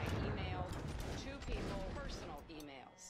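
Rapid gunfire in the battle game Totally Accurate Battle Simulator crackles in dense bursts and volleys throughout, with someone talking over the shooting.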